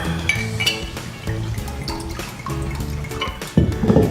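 Water poured into a glass for a morning lemon water drink, with clinking of glassware and trickling liquid up close, ending in a louder splashing pour.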